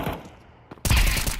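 AK rifle fire in a video game breaks out as a sudden loud burst of rapid shots after a brief quieter lead-in, dense and close.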